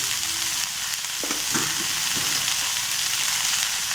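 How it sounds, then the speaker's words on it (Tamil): Tomatoes sizzle steadily in a pan for mutton gravy, with a constant hiss of frying and a few soft scrapes and clinks from stirring midway, close and alone. "இந்த தக்காளியை ஆட் பண்ணிக்கலாம்"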